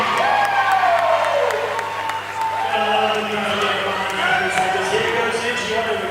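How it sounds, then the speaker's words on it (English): A fitness competition crowd cheers, whoops and applauds as a dense, loud wash that carries on steadily, with voices talking over it. "we could hear the crowd going a little bit wild"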